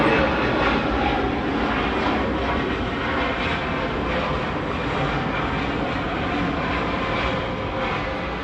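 A CRJ 900LR regional jet arriving from Allentown, its engines producing a loud, continuous roar that slowly eases while holding steady, heard from nearby on the airport grounds.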